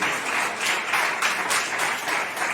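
A church congregation applauds steadily, dense clapping swelling and easing in waves without a break, with no talking on top.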